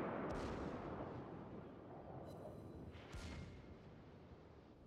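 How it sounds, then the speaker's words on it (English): Warship guns firing in World of Warships, heavy naval artillery booms with a dense rumbling roar, a sharp blast near the start and another around three seconds, loud and continuous with no talking. "Now the enemy has fired."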